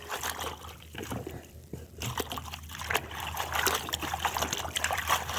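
Tap water trickling and splashing over spinach being washed by hand late at night, a faint, continuous running stream with irregular sloshes and drips close by, no talk.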